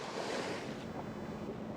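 Rushing wind and broadband water spray on Lake Tahoe while riding a 2024 Sea-Doo RXP-X 325 personal watercraft, a steady loud wash of noise with no break and no speech.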